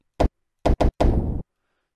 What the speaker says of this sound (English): so I'm gonna go ahead and add the stomp.